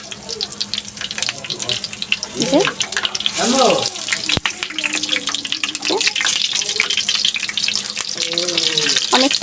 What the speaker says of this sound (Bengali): এবার বড়াটাই পিটো পিট করে উল্টায় দেব দিয়ে মশমশা করে ভেজে নেবো